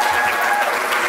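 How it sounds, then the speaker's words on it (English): Audience at the 2015 Girl Up Leadership Summit breaks into dense, steady applause, a loud wash of many hands clapping together with no pause for the whole moment. "give yourself a big hand of applause again."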